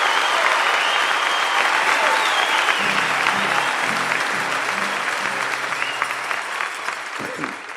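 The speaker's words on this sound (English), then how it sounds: "Would you all give the storytellers a little round of applause there?" Loud audience applause at a live country concert at the Grand Ole Opry, steady clapping that dips slightly near the end while a brief low voice murmurs underneath.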